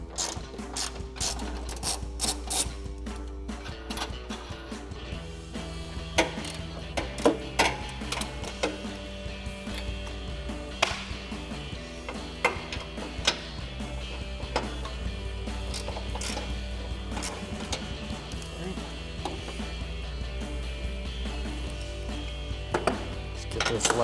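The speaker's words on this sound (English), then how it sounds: "We're gonna grab our ratchet and 21mm socket and take off those 3 nuts." A hand ratchet with a 21mm socket spinning off three bumper nuts on a 2021-2023 Ford F-150, with steady rapid clicking of the pawl in long runs, close and fairly loud, with no talk.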